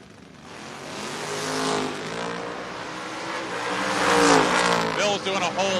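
Drag race cars launch down the strip at a Door Wars event, an 80 Camaro among them, engines roaring and building in loudness over a few seconds under continuous announcer commentary.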